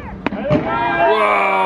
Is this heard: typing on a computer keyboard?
no